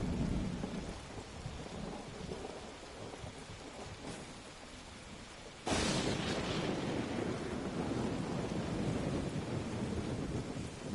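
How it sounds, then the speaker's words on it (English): A thunderstorm is picked up through a microphone, with steady heavy rain and wind rumble throughout and a loud crack of thunder about halfway through that leaves a louder roar. "There's a thunderstorm"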